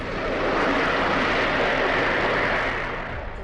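Concorde supersonic airliner engines roaring at takeoff, a loud, continuous broadband rush that swells and holds steady without a break, with no voices.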